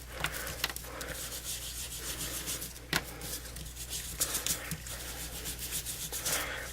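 A dauber rubs shimmer paint onto a card with soft, continuous scrubbing strokes, close and quiet over a steady low hum, with no voices.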